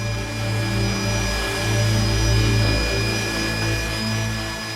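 A jet engine held at low, roughly one-fifth thrust roars steadily and loudly with a sustained whine, close and continuous without pauses.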